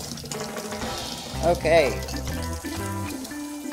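Water running from a tap and filling up a container on a homestead, a steady splashing rush under a person talking, with a brief louder gush midway.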